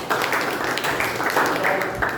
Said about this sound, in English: A big round of applause for all these three members.